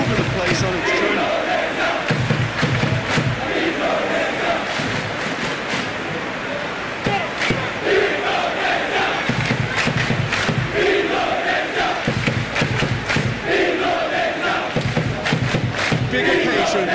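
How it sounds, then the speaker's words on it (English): Stadium crowd in eFootball PES 2021 during an Indonesia vs Malaysia match, a dense continuous roar of fans cheering and clapping with rising swells, under a commentator's voice. "Even some of the opposing fans are clapping that."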